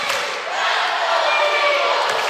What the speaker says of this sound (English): Listen to this crowd, folks.